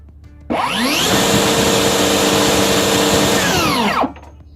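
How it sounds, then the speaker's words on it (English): DeWalt 60V cordless table saw spinning up with a rising whine, holding a loud steady high-pitched running tone for about three seconds, then winding down, close and alone. "That, my friends, is the sound of DeWalt's brand new cordless table saw."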